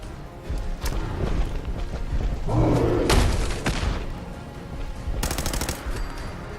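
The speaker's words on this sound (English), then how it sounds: "I can hear gunfire." Rapid bursts of gunfire in Fallout 4 crackle over a rumbling background, with a loud volley midway and another quick burst near the end.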